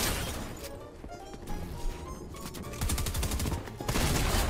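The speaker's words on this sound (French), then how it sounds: "Je l'ai tué avec un pompe tactique bleu alors qu'ils ont des pompes exotiques." Tactical shotgun blasts in a video game, several sharp loud shots separated by bursts of other gunfire and impact crashes over a busy game soundscape.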